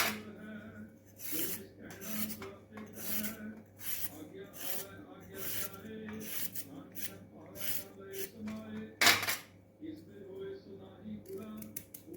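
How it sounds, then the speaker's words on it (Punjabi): Carrots are peeled for gajar ka halwa, producing quiet repeated rasping scrapes in a quick rhythm, close up, with a voice talking at times. "ਇਸੇ ਤਰ੍ਹਾਂ ਆਪਾਂ ਸਾਰੀਆਂ ਗਾਜਰਾਂ ਜਿਹੜੀਆਂ ਉਹ ਛਿੱਲ ਲੈਣੀਆਂ"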